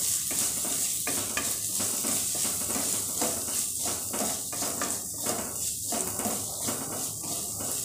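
Tomato mixture for poha sizzling and frying in a pan while being stirred, with steady hiss and repeated scraping strokes of the spoon close up, no talk.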